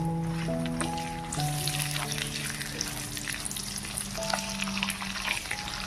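Finely chopped onion dropped into hot oil while cooking chicken, a loud steady sizzle and crackle with stirring scrapes, a faint tonal hum running underneath, no voices.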